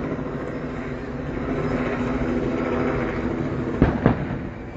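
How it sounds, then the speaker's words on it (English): A helicopter circles overhead, a steady, fairly loud rotor and engine drone that swells slightly, with a couple of sharp knocks near the end. "It's really circling, this helicopter"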